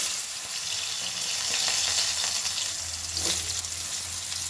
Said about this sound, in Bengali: মূলোটাও আমি আর একটু নাড়াচাড়া করে ভাজা ভাজা করে নেব।